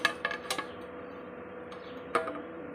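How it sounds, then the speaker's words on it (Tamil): A metal lid is set onto a pot of village fish curry with a ladle propped underneath, making a few sharp metallic clinks and taps, one near the start and another a couple of seconds later. "இந்த மாதிரி நம்ம மூடி வச்சிடணும்."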